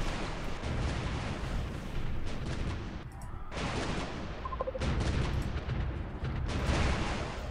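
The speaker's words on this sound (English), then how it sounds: "now you're launching some more missiles" Missile launches in the strategy video game Supreme Ruler 2020, heavy rumbling blasts and roaring bursts that rise and fall over several seconds, with a brief quieter gap in between.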